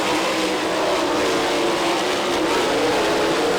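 Sprint cars race down the back straightaway at Lee County, a dense loud roar of engines at full throttle that rises and falls as the pack passes, steady throughout without voices.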